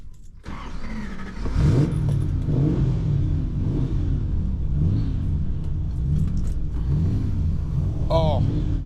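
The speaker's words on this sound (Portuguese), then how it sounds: "Agora, vamos ligar o carro." A 1979 Aston Martin V8 Oscar India with a sporty exhaust cranks and fires up, then revs repeatedly in rising and falling surges over a deep idle rumble, close and loud.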